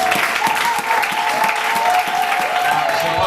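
A church congregation applauds and cheers in acclaim of the Lord, loud continuous clapping with crowd voices and shouts mixed in, filling the room without pause.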